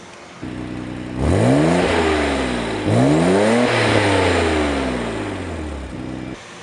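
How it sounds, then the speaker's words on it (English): A Nissan Skyline R32 GT-R with a Nismo exhaust revs sharply twice from a steady idle, rising to a loud throaty roar each time before dropping back to idle. "it is the Folgers can exhaust, but it gives a decent little sound here"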